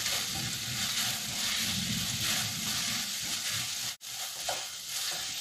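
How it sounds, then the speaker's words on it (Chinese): Seasoned paratha filling with curry powder and a little sugar being stirred in a pan, a steady close sizzle with scraping and stirring throughout and a brief dropout near the end, no talk. "咁就将啲调味搅拌均匀。"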